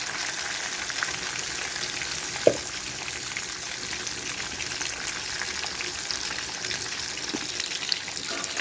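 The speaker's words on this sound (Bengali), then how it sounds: "এবার এতে দিয়ে দেবো বাকি মাছগুলো, একই রকম করে ভেজে নেব।" Hilsa fish pieces frying in hot oil, a steady close sizzle with a soft crackle throughout and one brief clink near the middle.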